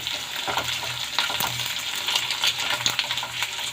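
Boiled egg pieces and onions fry in oil for a fried egg pizza, giving a steady close sizzle with a few stirring clicks and scrapes, no voices.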